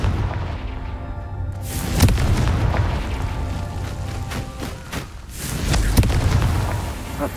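Confringo fire spell blasts in the video game Hogwarts Legacy, heavy booming impacts and crackling bursts, loud and near, several explosions landing over a rumbling backdrop.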